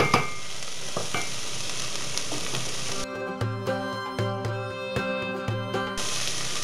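Onions fry in oil, sizzling steadily in a pan, with a brief stretch of rhythmic clatter and tapping partway through, no voices.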